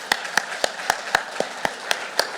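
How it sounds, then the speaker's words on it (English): An audience at a conference plenary session claps in a brief round of applause, sharp individual claps in a steady rhythm, fairly close and moderately loud. "So can you please give another round of applause to them?"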